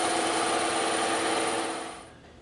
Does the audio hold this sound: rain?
no